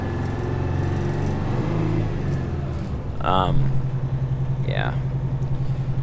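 A Detroit 8V92 diesel engine in a Peterbilt 359 truck idles low and rumbling, steady throughout, with someone talking over it.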